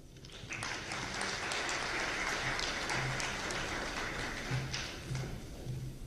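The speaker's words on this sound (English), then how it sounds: "Another round of applause," A crowd claps steadily and continuously for several seconds at a memorial conference in Zanzibar, a dense wash of applause with a few louder individual claps near the end.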